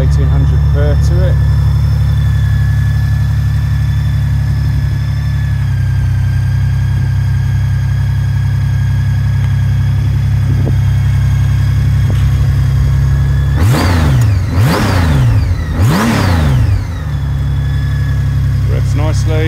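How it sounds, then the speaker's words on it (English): A 2017 Honda GL1800 F6C Goldwing bagger with 7,300 miles idles with a steady, smooth low hum, then gets three quick throttle blips that rise and fall sharply near the end, with someone talking over it. "Starts on the button. Beautiful GL1800 purr to it."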